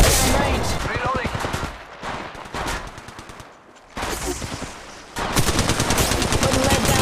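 Rapid automatic gunfire in the Apex Legends Mobile video game, loud dense bursts of shots broken by brief pauses, with voice callouts mixed in among the firing.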